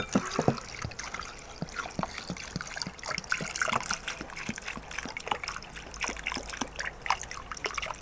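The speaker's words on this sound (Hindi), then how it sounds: "पानी बिल्कुल ठंडा यख जो हो वो ही ऐड करना है" Ice-cold water trickles and pours steadily onto sliced onions in a bowl, a continuous close-up liquid stream with small splashy drips, with no voices.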